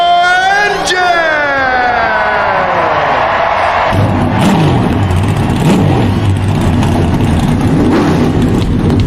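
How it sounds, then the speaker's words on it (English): A NASCAR race car engine starting and revving, first a rising whine that sweeps upward, then a loud rough rumbling idle with revs, heavily processed, with a crowd faintly behind. "Driver, start your engine!"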